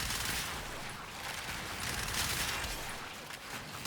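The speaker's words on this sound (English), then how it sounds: "I'm going to primary fire a few times so I can get some gas procs on him." Rapid primary-weapon fire in the shooter game Warframe, the Cyanex build shooting at an enemy: a dense, continuous rattle of shots, loud and sustained throughout, with no voice over it.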